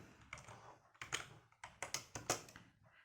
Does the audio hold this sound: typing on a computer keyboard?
yes